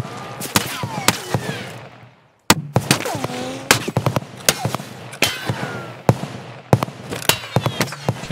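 Gunfire in the video game Escape from Tarkov: sharp, loud shots in rapid irregular bursts, with one short gap of silence. Faint voices come through between the shots.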